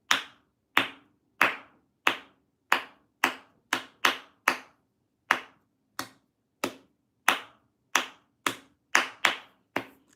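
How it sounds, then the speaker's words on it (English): A pair of hands claps out a rhythm during a violin tutorial, sharp close claps spaced in an uneven pattern with brief gaps and quick doubled hits. Each clap stands out alone against a quiet background. "now we're gonna clap the rhythm"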